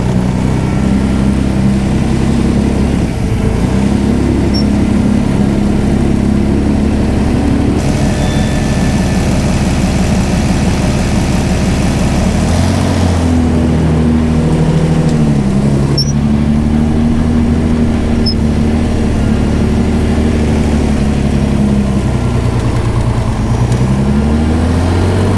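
A 1000-horsepower 1965 Shelby AC Cobra in polished aluminum idles steadily and loudly up close, a deep rumbling engine note with slight shifts in pitch and no talk over it.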